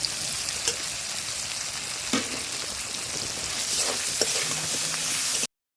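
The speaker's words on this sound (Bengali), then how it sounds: "ভালো করে কষানো হয়ে গেছে" Potatoes frying in a pan with cumin and a ginger, garlic and chili paste give a steady, close sizzle, with a few sharp scrapes and clicks from stirring and no voices.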